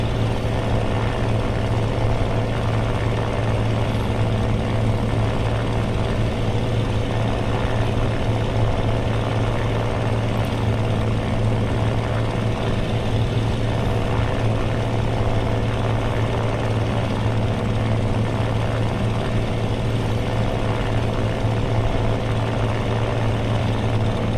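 Steady propeller-plane engine drone in flight in the air-combat game Aces of Thunder, a constant loud hum with a strong low tone that runs unbroken throughout, with no talking.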